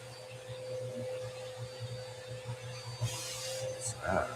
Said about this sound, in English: Can't really hear because of the vacuum.